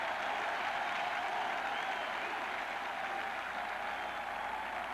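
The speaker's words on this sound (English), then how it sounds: "Listen to this crowd giving the hand to the defense." A football stadium crowd at a 1984 Illinois at Michigan game applauds the Michigan defense after a stop that forces a punt, producing a steady, dense roar of clapping and cheering that holds for several seconds without fading.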